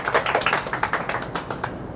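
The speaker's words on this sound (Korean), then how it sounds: "박수 한번 부탁드립니다" Applause from a small audience at an amateur golf driving-distance seminar held in a fitness center: a short burst of scattered hand claps, fairly close, with no talk.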